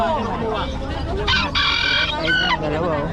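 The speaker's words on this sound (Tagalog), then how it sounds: "Gandang manok yan boss." A rooster crows with strained, harmonic calls over a busy background of chatter and other fowl clucking nearby.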